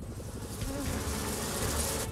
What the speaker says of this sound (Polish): Pszczoły lecą do ula zrobić miodek.